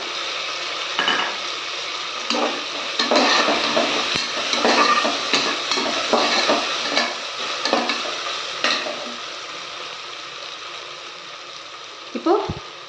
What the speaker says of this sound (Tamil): அஞ்சு பச்சை மிளகாய் நான் வந்து கீரையில் காம்பு மட்டும் எடுத்திருக்கேன் சேர்த்துக்கலாம்